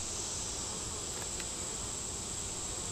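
Honey bees buzz steadily in an open, very strong hive during an inspection, a dense continuous hum filling the whole stretch with no talking.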